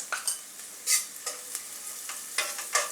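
A spoon stirring fried onion with turmeric in a pan for masale bhaat, soft sizzling broken by a quick series of scraping strokes, close and fairly quiet, with no one speaking.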